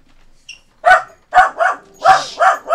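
A dog barks in about five loud, close, sharp barks in quick succession, with a faint whine just before them.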